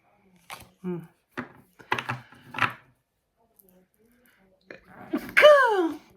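A few short, scattered vocal noises lead up to one loud, abrupt sneeze near the end, close to the listener.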